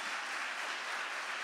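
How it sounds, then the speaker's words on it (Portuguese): Steady applause from a church congregation during a worship service, a dense even wash of clapping that stays constant and loud throughout, with no voices above it. "aplaude a Jesus aí"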